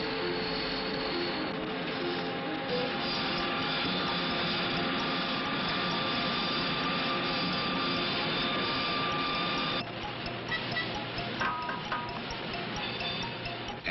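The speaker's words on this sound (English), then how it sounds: "An induction furnace." An induction furnace in a Remington arms factory gives off a steady, dense mechanical hum with a slight shift in texture partway through, on an old, band-limited film soundtrack.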